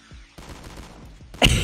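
Bursts of rapid gunfire from Call of Duty Mobile rattle off in a quick run of several shots, then a louder blast at the very end.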